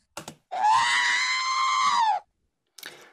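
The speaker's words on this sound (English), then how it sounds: "Here's the scream from the original film." The stock scream sound effect from the original Star Wars film rings out as one loud, sustained cry lasting under two seconds, framed by brief clicks before and after.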